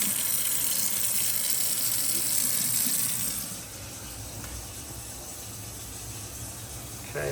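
A newly installed plug-in garbage disposal runs with water flowing into the sink, a steady close rushing whir that softens partway through and carries on evenly.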